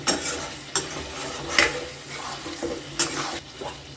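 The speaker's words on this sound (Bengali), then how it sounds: "এর মধ্যে দিয়ে দেবো সেই গরম মশলাটা গুঁড়ো করে যেটা আমি রেখেছিলাম সেটা জল দিয়ে গুলে দিয়ে দিলাম" Meat curry sizzles in a pan as water-mixed ground garam masala goes in, with several sharp clinks of a spoon against the pot over a steady low frying hiss.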